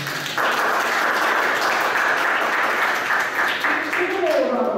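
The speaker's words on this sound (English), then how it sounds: "Give them all a round of applause." Seminar attendees clap together in sustained applause, with a voice speaking over the clapping.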